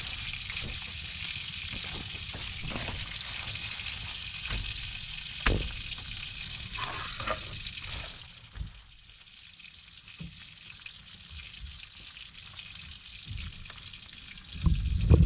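Freshly caught galunggong fish frying in hot oil, giving a steady close sizzle with scattered sharp pops and crackles. The hiss softens partway through before a louder burst near the end.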